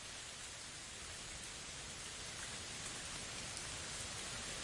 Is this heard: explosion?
no